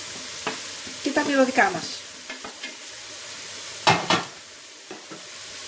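Artichokes and herbs fry in a pan with a constant sizzle and several bursts of stirring scrapes, close up. A person speaks briefly over the cooking.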